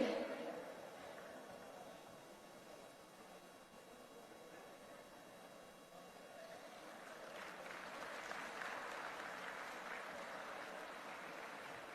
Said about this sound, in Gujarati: ખૂબ તાળીઓના નાદ સાથે સ્વાગત કરીએ છીએ